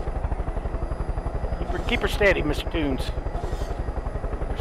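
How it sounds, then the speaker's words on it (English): A helicopter flies in Far Cry 5 with a steady, rapid rotor chop and engine drone held at an even level the whole time, while two people talk over it. "you might be thinking, why we're in a different helicopter now"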